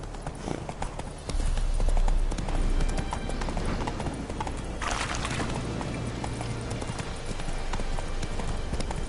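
Roach the horse clip-clops steadily along in The Witcher 3, hooves beating in an even rhythm over ambient game sound, with a louder swell partway through.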